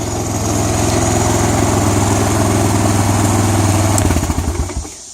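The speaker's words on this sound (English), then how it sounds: "It's idling high, but it's idling smooth." Close, loud idle of a 2004 Honda Recon 250 ES ATV engine after a carburetor rebuild, running high but even, with a shift in tone near the end before it drops off.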